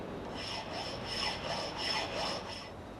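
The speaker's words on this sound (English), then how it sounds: "This is a flat file, but its shorter teeth remove much less material on each stroke," A flat file with short, fine teeth rasps across metal in a workshop, a few quiet, even back-and-forth strokes heard close and alone.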